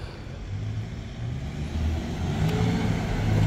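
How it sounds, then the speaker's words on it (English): A car passes on a street in Jerusalem near Bethesda, its engine rumble building steadily louder over a few seconds amid outdoor traffic noise, with no voices. "there's a car"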